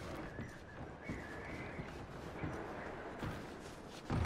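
Horses in the Red Dead Redemption 2 video game, with hooves clopping at a steady pace and a brief whinny, set against a dense, busy outdoor ambience with a thump near the end.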